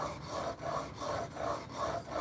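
A steel chisel being sharpened on a 400-grit whetstone, a steady gritty rasping that swells and fades in rhythmic back-and-forth strokes, about six passes, close and moderately quiet with no talking.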